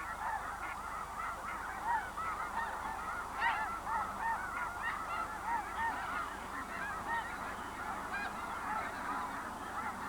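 A flock of whooping cranes and sandhill cranes calls continuously, layered honking and bugling cries overlapping at moderate distance over a steady outdoor background, with no pauses.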